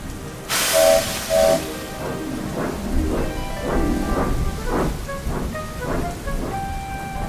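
Steam locomotive climbing a hill, chuffing in slow, laboring bursts with hissing steam and a brief whistle blast near the start, sounding close and heavy.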